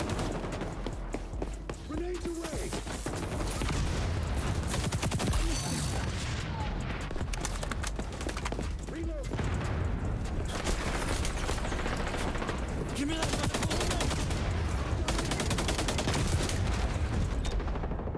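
Gunfire and a flashbang grenade blast in a video game firefight: dense, loud, nearly continuous bursts of shots and booms filling the whole stretch, with a few brief lulls.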